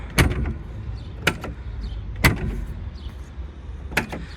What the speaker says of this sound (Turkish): Bu arada kapı sesini çok beğendim. Sizlere de dinleteyim.